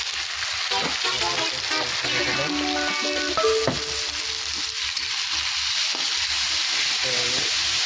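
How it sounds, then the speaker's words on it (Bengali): Onions and ginger paste fry in a pan, giving a loud continuous sizzle broken by the scrape of a spatula stirring them, with faint tonal sounds in the background. "আমি এখন এটা নেড়ে একটু লাল করবো"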